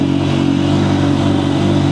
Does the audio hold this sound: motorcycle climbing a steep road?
yes